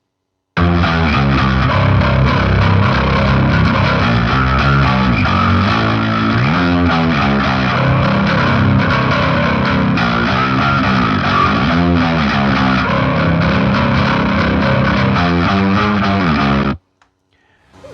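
A heavily distorted bass guitar plays a continuous, gritty line with shifting pitch, loud and close, running steadily before cutting off abruptly near the end.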